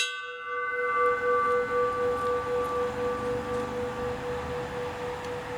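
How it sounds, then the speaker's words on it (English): A ceremonial bell is struck once at a 9/11 remembrance ceremony in Rhode Island in honor of the victims of United Airlines Flight 93, a single clear, sustained tone that rings out and slowly fades. "We will now ring the bell in honor of the victims of United Airlines Flight Number 93."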